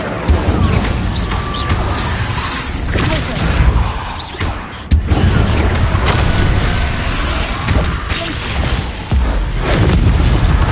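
A fire spell cast in a Harry Potter video game bursts out loud and booming, with crashing and thudding impacts layered over dense game sound throughout.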